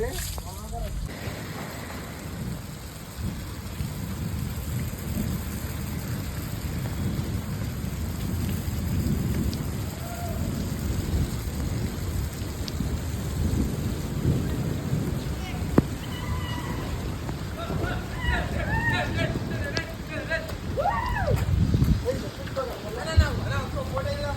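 Heavy rain pours steadily with low rolling thunder rumbling through, and a few voices are heard faintly now and then.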